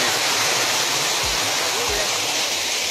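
Spring water pours down a hillside in a loud, unbroken rush of flowing water heard up close, with a couple of low thumps.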